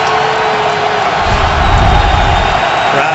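At an NFL game between the 49ers and the Patriots, a large stadium crowd makes a loud, dense, continuous roar that swells slightly as it goes.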